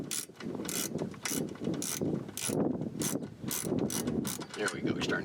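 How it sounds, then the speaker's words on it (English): A dry ratchet that needs oil turns during a rear view mirror installation on a Kubota RTV-X900, giving loud, close, rhythmic clicking bursts about twice a second, one after another. "It's just a little too loosey-goosey. Ratchet needs a little oil."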